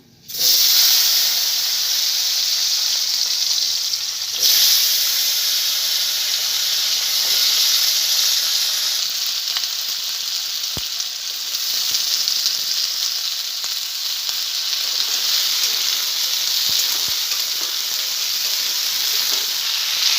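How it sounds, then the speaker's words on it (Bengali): Potatoes and taro sizzle loudly and steadily as they fry in oil, a constant close hiss with only slight swells and a few faint knocks underneath. "মাছ ভাজা তেল রয়েছে, এর ভিতরে আমি আলু আর কচুমুখিটাকে ভেজে নেব।"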